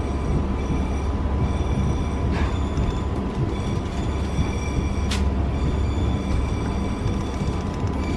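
A railway locomotive rumbles steadily past on a flyover, a continuous broad roar with faint metallic whines and a brief squeal partway through, no talking.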